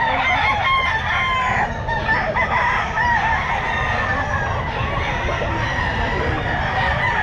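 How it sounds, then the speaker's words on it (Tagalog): Many roosters crow loudly and continuously at a pet market, their overlapping calls filling the air alongside clucking, with a few voices faintly mixed in. "Ito mga manok ni Bosapon mo."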